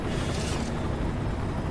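A gunlance explosion from the Monster Hunter Stories 2 video game: one loud, dense burst of rumbling blast noise that holds almost two seconds with no fade, heard with no voices.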